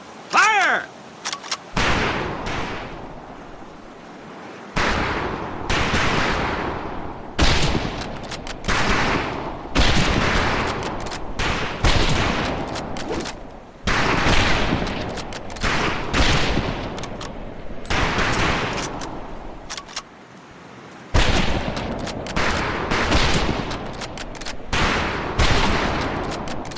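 Rifle fire crackles across a boot camp firing range in Medal of Honor: Pacific Assault, with repeated loud bursts and volleys of gunshots separated by brief pauses over nearly half a minute.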